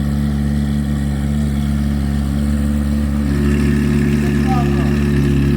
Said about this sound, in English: he's probably gonna rev it